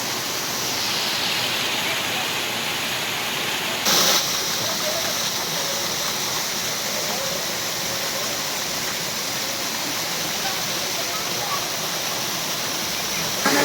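Steady, loud broadband rush of a waterfall at Devjhar near the Murga Mahadev temple in Keonjhar, a continuous roar filling the whole clip with a brief louder burst near the four-second mark.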